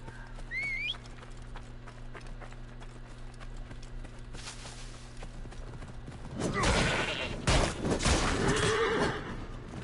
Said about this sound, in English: Sorry, horse.